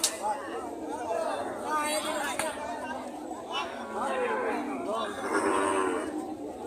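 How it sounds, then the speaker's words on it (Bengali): Several cows moo loudly and repeatedly at a large cattle and buffalo market in Panchbibi, Joypurhat, Bangladesh, against a busy outdoor murmur of crowd chatter, the calls rising and falling close by. "বিশাল বড় একটি দানব আকৃতির গরু, 2টা গরু একদম দানব আকৃতির।"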